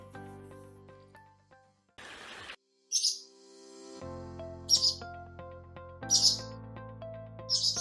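Nightingale song of bright, repeated chirps and trills in short bursts, heard over a soft background of musical tones, with a brief hiss partway through.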